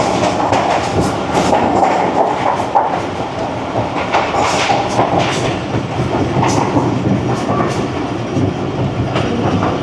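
A train crossing the Thar Desert, loud and close with dense rattling clickety-clack of wheels over rail joints and rumbling carriage noise throughout, no voices.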